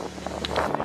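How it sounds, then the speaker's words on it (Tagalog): Strong wind buffets the microphone over an open rice field, a steady rumbling roar with gusty swells throughout the brief moment, no voices. "mararamdaman nyo kung gaano kalakas yung hangin dito"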